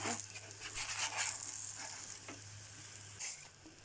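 Bread slices topped with eggplant fry in a pan with a bright, continuous sizzle, close and fairly quiet, easing off near the end, with no voices.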